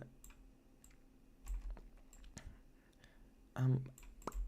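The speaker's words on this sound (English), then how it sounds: "every time I start to move the stuff around in the keyboard, it makes such a big noise." Loud clicks and clatter from a computer keyboard while someone moves things around during a Planet Zoo building session, scattered irregular taps over quiet room tone, with one heavier burst of clicking near the end.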